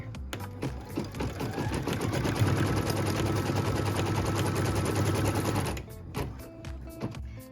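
A sewing machine stitches the tack down line on piece four of a quilt's maple leaf block, a fast, steady run of close needle strokes lasting about five seconds, with short bursts and handling noises before and after.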